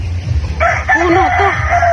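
A native rooster crows nearby, a loud drawn-out call over low background rumble, with faint voices around it.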